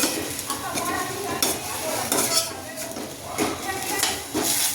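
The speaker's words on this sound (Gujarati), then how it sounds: "ગોલ્ડન બ્રાઉન થાય ત્યાં સુધી આ રીતે હલાવતા રહીશું અને ગોલ્ડન બ્રાઉન થવા દઈશું આપણી ડુંગળીને" Onions fry with curry leaves in a pan, a steady loud sizzle broken by scraping stirring strokes of a spoon against the metal, close up, with someone talking over it.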